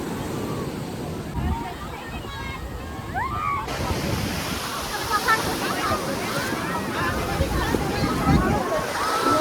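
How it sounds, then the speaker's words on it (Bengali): Continuous surf and crashing waves at Puri beach, with a busy crowd murmuring and voices calling out faintly over the roar of the sea. "আমরা কিন্তু এখন চলে এসেছি সমুদ্র সৈকতের সামনে"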